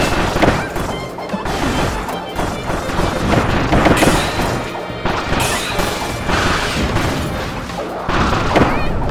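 Bomb explosions in Kirby Star Allies, loud crashing booms and thuds packed densely over a busy game soundtrack, repeating in bursts throughout.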